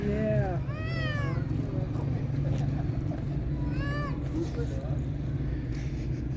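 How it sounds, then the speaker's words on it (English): A white cat and a black cat fight, yowling and meowing in rising, wavering cries over steady background rumble, with a second burst of caterwauling a few seconds later and people talking nearby. "the poor white cat is getting assaulted by the black cat"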